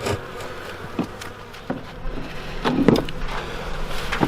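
Honey bees drone and buzz around a hive's second entrance during spring hive work, a steady insect hum with wooden knocks and bumps from the hive cover and frames, fairly close.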